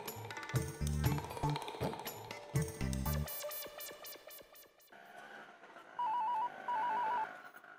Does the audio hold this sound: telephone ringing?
yes